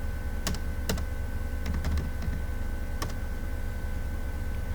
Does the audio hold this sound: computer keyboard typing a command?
yes